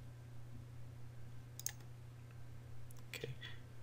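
A couple of soft computer mouse clicks, quiet and close, set apart by a steady low hum in an otherwise still room.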